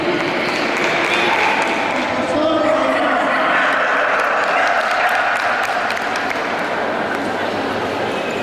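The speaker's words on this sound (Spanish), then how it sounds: "Y pueden aplaudir" Audience at a dog beauty contest applauding: steady, dense clapping from a crowd, continuous throughout with some speech mixed in.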